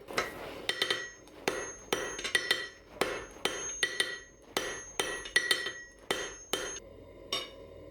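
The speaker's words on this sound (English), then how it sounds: "I'm gonna use this soft corner on the anvil so I don't create any sharp ones" Hot steel is hammered on the soft corner of an anvil while forging a bottle opener, giving a rapid series of sharp, ringing metallic strikes in irregular bursts, close and clear with no talk.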